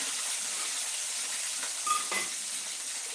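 Green chillies and tomatoes sauté in hot oil with a gentle, steady hiss, joined by a couple of light metallic clinks of a utensil against the pan, close and fairly quiet with no voices.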